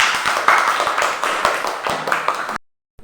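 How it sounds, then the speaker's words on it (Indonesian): A classroom group claps for the third student group after its presentation, a short burst of brisk, moderately loud clapping from several people that stops abruptly. "Tepuk tangan untuk kelompok 3."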